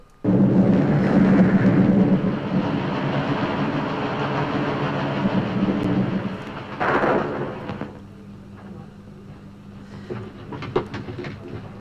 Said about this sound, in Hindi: गजब की बिजली थी, चमकी, कड़की और गिरी